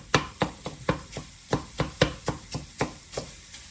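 A spatula breaks up cauliflower rice in a hot pan: about a dozen sharp, evenly spaced scraping taps close by, with no talking.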